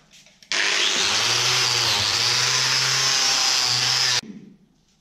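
A power tool spins up to strip rust from car suspension parts before welding, a loud, steady grinding whine lasting about four seconds that cuts off abruptly, with quieter shop sounds before and after.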